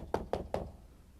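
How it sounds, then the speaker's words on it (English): Three quick, evenly spaced knocks on a door, fairly close and distinct, followed by quiet room tone. "Knock on my door."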